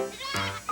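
A fainting goat on a farm gives a short, close bleat, with a quick second cry starting right at the end.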